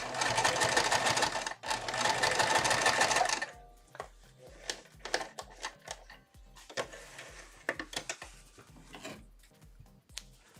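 A sewing machine stitches down the edge of a fabric diaper pod tote, running in a steady loud burst before breaking into short, stop-start runs of stitching with quiet gaps between.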